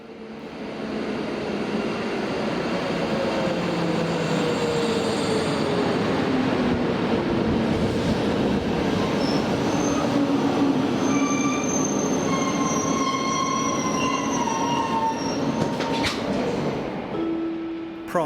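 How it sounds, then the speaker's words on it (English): Electric locomotive 371001 rolls into Ústí nad Labem with a Eurocity passenger train from Dresden, a steady rumble of wheels joined by rising squeals and screeching from the rails as it slows. "as 371001 arrives with a Eurocity train from Dresden"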